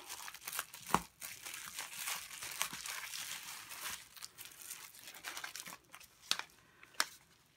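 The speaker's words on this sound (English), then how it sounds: "It's bubble wrapped," Bubble wrap crinkles and rustles as a package is unwrapped, in soft, close, irregular bursts of crackling with a few sharper pops.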